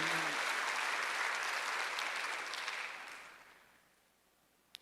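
A church congregation claps together during a Sunday worship service, a dense, loud burst of applause that holds for about three seconds before thinning out and fading away.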